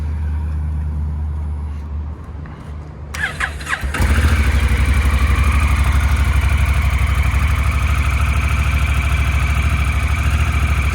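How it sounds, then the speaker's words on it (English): A Honda Africa Twin motorcycle with its stock exhaust turns over and catches, then settles into a loud, throaty, steady idle close by. "Super throaty for a stock exhaust."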